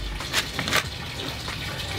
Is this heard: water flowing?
yes